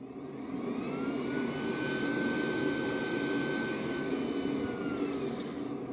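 A battery-powered blower fan on a boiler, used to stoke and hold its temperature, runs with a steady whirring rush and a thin high whine, holding constant throughout.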